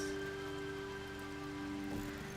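Rain falling in the video game RimWorld: a soft, steady patter of rainfall, faint and continuous under a low steady tone, with no voices.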